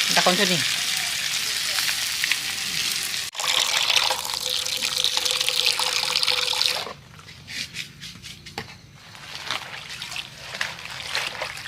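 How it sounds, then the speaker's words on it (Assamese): Continuous loud sizzling from a pan of pork frying with pumpkin, the hiss shifting in texture as it is stirred and turned partway through. "এতিয়া আকৌ ৰঙালাওৰ লগত মিক্স কৰি আকৌ ভাজা হৈছে।"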